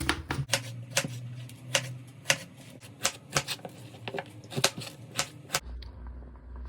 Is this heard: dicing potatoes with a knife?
yes